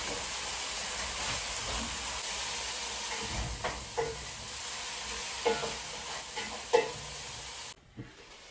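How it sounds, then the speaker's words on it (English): Tomatoes with garlic powder fry in a pan at home, a continuous sizzle broken by several scraping stir strokes, ending in a brief quiet gap with one last scrape, and no talking. "After adding our tomatoes, we'll add this garlic powder."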